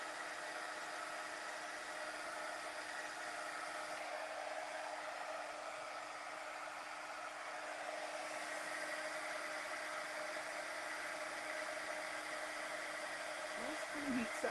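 Heat tool blowing to melt embossing powder on a card, a constant close whooshing fan roar with a steady motor hum that runs unbroken for the whole stretch.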